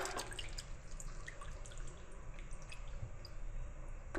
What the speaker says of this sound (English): let it drain down into the bowl